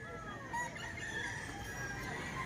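Golden-coloured "sweater golden boy" rooster crowing at a farm in Lipa, Batangas, a drawn-out crow running steadily through the whole moment at moderate distance against faint background noise.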